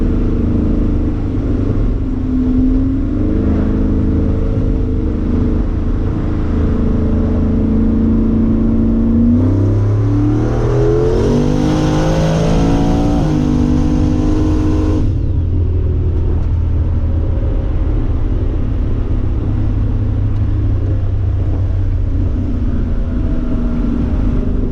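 Turbocharged car accelerating hard during a run, a loud sustained engine rumble with rising revs and a whine climbing in pitch midway, then settling back to a steady drone.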